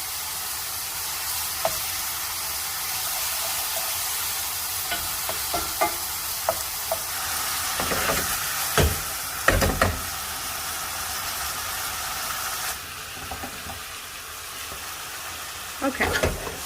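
Two tablespoons of butter melting in a pan for creamy fettuccine with shrimp, a steady frying hiss broken by occasional knocks and clatter of utensils, fairly close.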